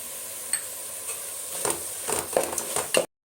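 Mushroom biryani masala is stirred in a pan with a steady low sizzle underneath and a few soft scraping strokes near the end, close by with no talk.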